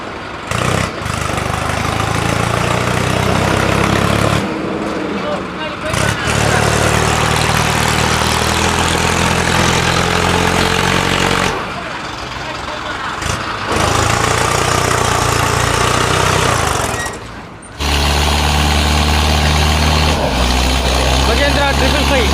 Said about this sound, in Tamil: இந்த ட்ரிபிள் ஃபைவ் டிராக்டருங்க பார்த்தீங்கன்னா பின்னாடி ரிவர்ஸ் எடுக்கிறாங்க